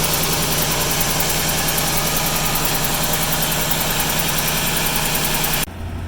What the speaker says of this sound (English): So we're going to do another walk around so you can hear the motor purring.